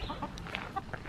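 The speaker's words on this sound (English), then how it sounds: "Your chickens are coming for you." Farm chickens cluck nearby in short, soft, scattered notes, quiet against a low background rumble.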